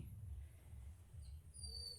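A small dog whimpers softly in short, repeated whines, faint and close, with a high thin squeak near the end and no talking.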